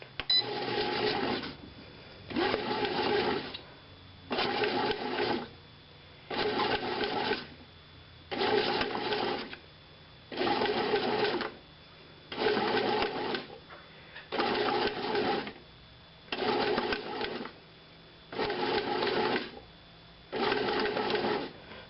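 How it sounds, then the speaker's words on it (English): A Hamilton Beach bread machine works whole grain barley dough on its punch-down cycle, its motor churning in regular bursts of about a second and a half separated by short pauses, repeating steadily and loud throughout. "I'm going to restart the bread machine to let the bread machine do the punch down"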